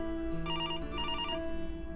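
A telephone rings indoors with a bright electronic trilling tone in two short bursts, steady and moderately loud against a layered background of music-like tones.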